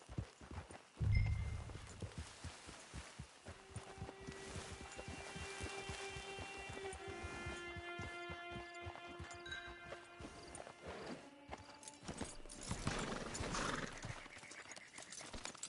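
A horse in the Red Dead Online video game clip-clops steadily on its hooves for a long stretch and lets out a whinny, with rain-like ambience and faint tonal music behind it and no talk.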